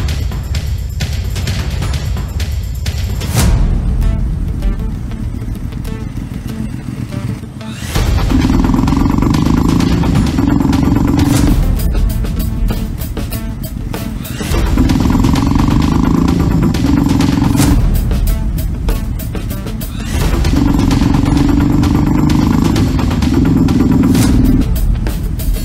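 Motorcycle engine running loud and close, with a rough idle alternating with surging revs in repeated bursts, harsh clattering tone throughout.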